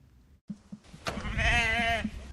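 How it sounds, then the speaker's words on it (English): A Babydoll Southdown miniature sheep on a Queensland hobby farm lets out one clear, wavering bleat close by, preceded by a few soft thumps and rustles. "miniature sheep are popping up on hobby farms across Queensland, Australia"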